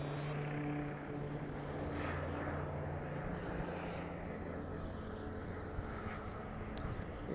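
A steady, droning engine and rotor hum from a rescue helicopter flying nearby, continuous and moderately distant, heard from a paraglider over a lake area with wind noise.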